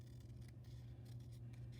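Scissors cutting out a paper leaf shape for a first-grade fall craft, giving a faint, steady snipping and rubbing texture over a low hum, close by with no talk.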